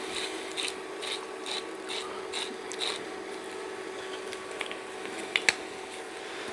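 Carrot and onion with spices are stirred in a pot, giving a run of rhythmic scraping strokes over a constant low cooking hiss. A couple of sharper clacks come near the end, and no one speaks.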